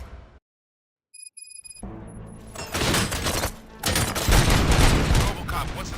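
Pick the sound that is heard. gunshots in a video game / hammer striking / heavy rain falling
gunshots in a video game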